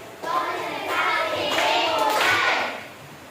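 Schoolchildren in a classroom clap out a concentration routine together, a patterned burst of group clapping with children's voices chanting over it, rising and falling across a few seconds.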